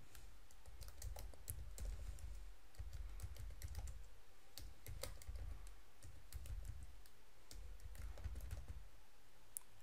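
Steady typing on a computer keyboard while setting up a server droplet, with irregular clustered keystrokes and occasional sharper clicks running continuously and close up, no speech.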